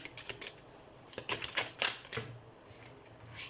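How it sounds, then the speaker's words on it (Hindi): Tarot cards being shuffled by hand, a run of quick crisp riffling taps and flicks that bunch together in short bursts, close up and moderately loud, with no talk over them. "तो हम कार्ड शफल कर लेते हैं फॉर ऑप्शन 3"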